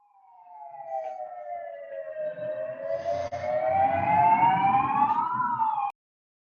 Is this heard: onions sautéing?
no